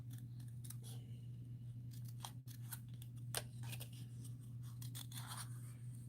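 Small scissors fussy cutting stamped paper images make quiet, repeated snips and rustles over a steady low electrical hum at a crafting desk, with no one talking.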